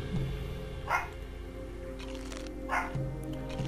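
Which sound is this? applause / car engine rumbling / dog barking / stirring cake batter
dog barking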